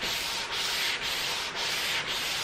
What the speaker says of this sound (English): I'm just going to give it a really quick smooth sand. So this is a 240 grit.